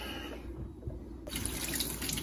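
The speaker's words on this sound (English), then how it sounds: "Cold water." Cold tap water runs into a kitchen sink for washing farm fresh eggs, a steady close hiss that grows brighter and louder partway through, with no voices.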